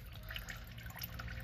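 Antifreeze and water drain from an RV grey water tank, a steady low trickling and dripping of liquid running continuously at a modest level.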